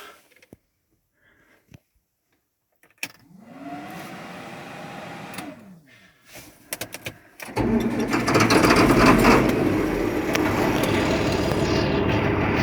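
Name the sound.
John Deere 7520 tractor engine starting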